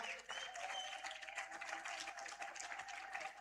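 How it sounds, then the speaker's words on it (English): Audience applause for a main partner at a youth indaba: continuous crowd clapping, steady and fairly close, with a faint voice or two mixed in beneath the claps. "Can we give them a big round of applause?"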